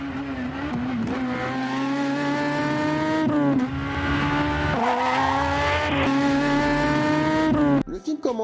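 A car engine roars at speed with rising and falling pitch sweeps, loud and continuous, opening a Taxi film before cutting off abruptly near the end.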